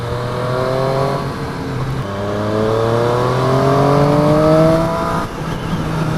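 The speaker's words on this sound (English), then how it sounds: "When you wind this engine up, it just absolutely howls." A 2019 Triumph Street Triple RS motorcycle engine revs hard through rising gears, its howl climbing in pitch, dropping at each shift, then climbing again, loud and close throughout.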